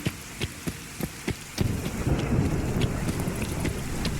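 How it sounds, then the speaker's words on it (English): Rain in Fallout 4's Far Harbor, steady hiss of rainfall on surfaces with low rumbling, preceded by a few sharp evenly spaced thumps, moderately loud with no talking. "I actually really like Sounds of Rain."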